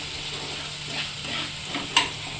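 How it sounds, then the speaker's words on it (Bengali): Broth poured into a pan of sizzling fried tomato masala for Bengali rui fish jhol with potatoes: a steady hiss of frying with light stirring, then a sharp splashing burst near the end. "এরপর আমি ঝোলটা দিয়ে দেবো"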